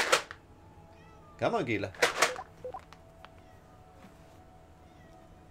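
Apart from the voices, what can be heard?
cat meowing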